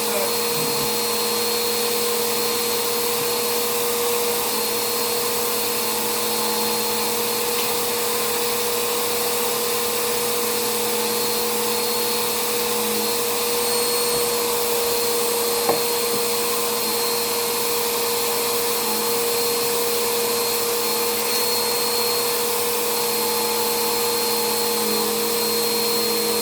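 A vacuum cleaner runs steadily while a room and closet are vacuumed, its constant motor whine unbroken from start to finish, fairly loud and close, with one brief knock partway through.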